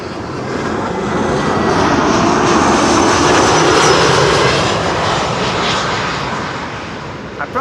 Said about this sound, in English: This was Shamrock flight 604 returning from Dublin